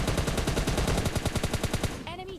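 Rapid automatic gunfire from the mobile shooter game PUBG Mobile Lite, a fast continuous burst of sharp shots rattling for about two seconds before a short electronic game sound.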